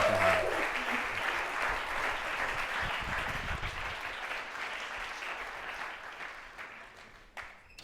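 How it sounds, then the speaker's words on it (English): An audience at a medical lecture on the eFAST protocol claps steadily for several seconds, a full wash of applause that gradually fades toward the end. "let's have a round of applause for Aidan Baron and his lecture"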